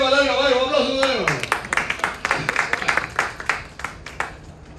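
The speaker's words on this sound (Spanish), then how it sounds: "un aplauso" A voice trails off into a round of clapping from a small audience at a book event, claps arriving as distinct, fairly close bursts.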